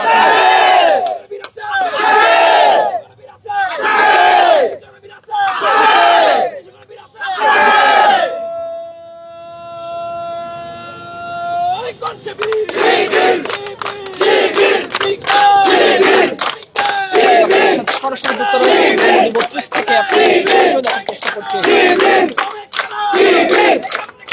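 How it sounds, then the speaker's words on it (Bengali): A large crowd at a protest in Dhaka shouts slogans in loud, rhythmic unison bursts. A sustained horn-like tone sounds midway, then dense, continuous crowd shouting follows. "স্লোগান দেওয়া হচ্ছে সামনে থেকে"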